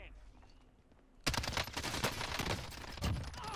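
Fully automatic gunfire in the Mini Royale video game erupts after a quiet second, then a loud, sustained rapid-fire burst runs close and steady to the end.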